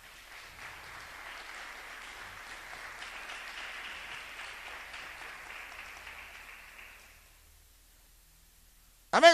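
Church congregation applauding during a morning service, a soft, distant patter of many hands that holds steady for several seconds, then fades out, followed by a brief loud sound at the very end.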